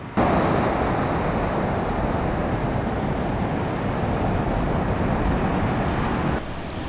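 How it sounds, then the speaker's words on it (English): Sea waves wash steadily onto a sandy shore near a Caribbean airport at St Barts, a constant broadband rush mixed with some wind, close and fairly loud with no distinct breaks between waves. "then a little bit of sand, and then the waves lapping from the sea behind"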